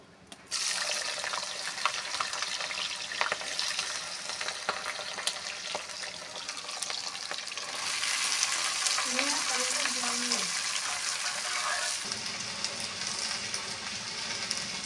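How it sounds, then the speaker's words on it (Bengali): Unripe jackfruit frying in a pan for a prawn dish gives a steady broad sizzle throughout, with occasional stirring scrapes and a brief tonal squeak midway, fairly loud and close with no talking. "এবার আমি ইঁচড়টা ভাজবো।"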